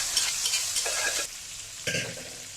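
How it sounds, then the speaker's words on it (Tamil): Mutton stir-fried in oil in a kadai for a pepper fry, with close spatula scrapes and stirring over a continuous crackling sizzle that eases off midway and then flares again. "இப்போ மட்டன் எல்லாத்தையும் கடாயில் சேர்த்தாச்சு"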